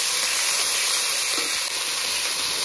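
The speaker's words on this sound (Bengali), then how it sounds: "এই বাটা মশলাগুলো দিয়ে কষিয়ে নেব।" A paste of ground onion, ginger-garlic, cumin and dried chilli frying in a pan, giving a loud, steady, close sizzle and hiss with no pauses.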